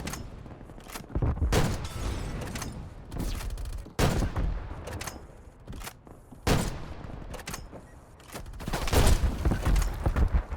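A ZRG 20mm sniper rifle in a video game fires five heavy, booming shots, spaced a couple of seconds apart, each loud and close with a rumbling tail.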